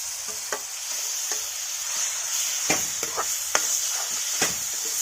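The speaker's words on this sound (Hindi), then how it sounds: "भून लेती हूँ घी में" Custard apple frying in desi cow ghee, a soft steady sizzle stirred with intermittent scraping clicks and taps, close and alone with no talk.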